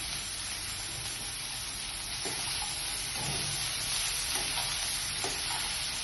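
Bottle gourd curry sizzles steadily in a frying pan while it is stirred, a continuous close hiss with soft scraping strokes of the spoon now and then.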